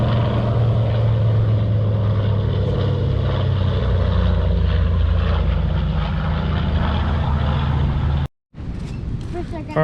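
Aircraft engines roar at the Ocean City, Maryland air show, where an A-10 Thunderbolt, F-18s and the Thunderbirds fly. A loud sustained drone builds and stays close, then cuts off abruptly near the end, with people talking beneath it.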